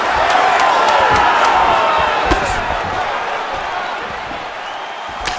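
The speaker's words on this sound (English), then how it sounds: "The crowd's going crazy because they appreciate high-level mixed martial arts" Arena crowd in the EA Sports UFC 5 video game roars in a loud, continuous wash of cheering during a simulated mixed martial arts bout, with a few sharp slaps and a commentator's voice over it.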